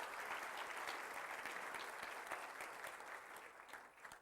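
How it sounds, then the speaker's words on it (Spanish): A congregation at a church service applauds, with dense continuous clapping that holds steady for several seconds before easing slightly. "Vamos a darle un aplauso al Rey de Reyes y Señor de Señores, Jesucristo."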